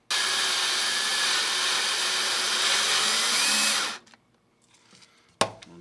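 A power drill whines steadily and loudly for about four seconds as it bores holes through taped-together popsicle sticks, then stops, followed by quiet handling noise and a sharp knock.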